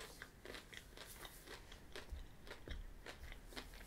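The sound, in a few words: crunching the sugar shell of Cadbury Mini Snow Balls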